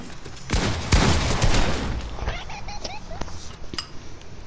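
Fortnite gunfire crackles in a dense, loud volley during the first couple of seconds, then sparser shots and metallic clinks follow, with game sounds and talk mixed in.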